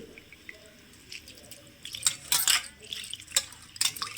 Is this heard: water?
yes